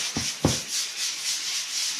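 Two short scraping strokes lead into a steady, soft abrasive rubbing of drywall being sanded in even, circular sweeps, close and fairly quiet.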